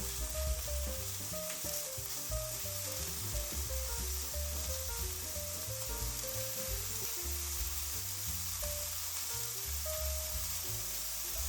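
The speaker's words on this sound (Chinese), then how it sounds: "蘑菇还是煎一下会比较香。" Button mushrooms pan-frying in oil give a steady, close sizzle with crackling pops throughout, alone and without talk.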